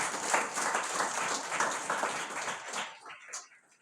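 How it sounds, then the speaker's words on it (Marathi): A crowd claps steadily for a few seconds, the applause thinning and fading out toward the end. "आपण त्यांचा टाळ्या वाजून स्वागत करू"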